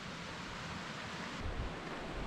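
A mountain creek rushes steadily along a trail on Mt Lindsey, a dense continuous wash of flowing water with some low rumble and wind buffeting toward the end.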